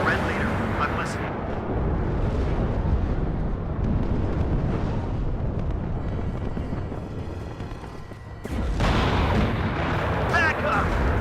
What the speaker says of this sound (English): It's those rockets that are really tearing me up.